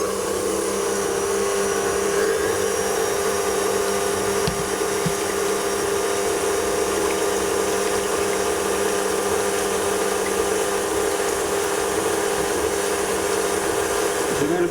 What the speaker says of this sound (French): Je mets le batteur à vitesse maximum